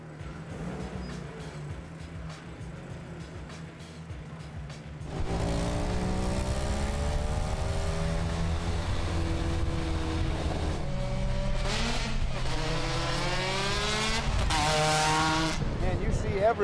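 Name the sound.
supercharged Ariel Atom car driving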